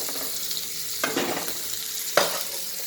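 Onion and spices sauté in a pan for Uttar Karnataka style tonde kayi palle, a steady close sizzle with two scraping stir strokes of a spoon against the pan.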